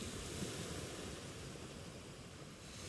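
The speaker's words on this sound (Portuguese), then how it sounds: "À sua frente, o mar dança em harmonia com o som das ondas" Steady sea surf washes onto a beach in a continuous broadband rush, with soft wind noise mixed in and no distinct breaks between waves.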